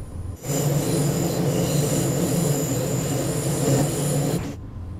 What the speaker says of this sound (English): It's quite a squeaky train.